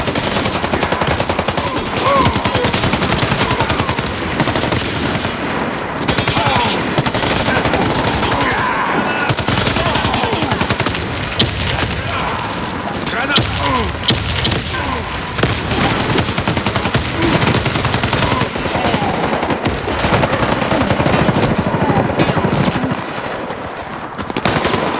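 Sustained automatic gunfire and dense firefight noise from the shooter game Warface, loud and continuous with bursts throughout; a grenade throw is not clearly distinguishable within the barrage.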